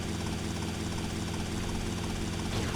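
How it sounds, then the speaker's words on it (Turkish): A helicopter hovers in GTA Vice City Remastered, a steady loud rotor thrum and engine roar filling the whole stretch without pause, close and continuous with no voices. "Şimdi şöyle Helikopterimizi koyalım şuraya."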